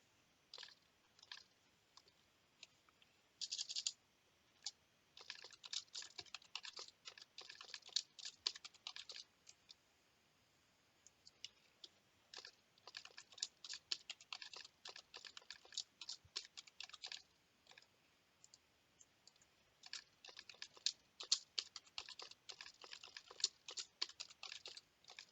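A password being typed on a computer keyboard, with rapid, quiet clicking keystrokes coming in bursts and short pauses, close and with no talk.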